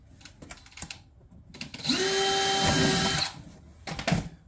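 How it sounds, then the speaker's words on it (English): A power drill whines steadily for about a second and a half, bracketed by a few short clicks and bumps of handling nearby. "Missed a hole to drill here."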